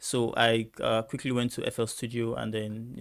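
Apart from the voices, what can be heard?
None of the usual background noises is heard.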